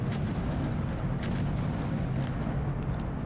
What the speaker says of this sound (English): This guy exploded all kinds of shit.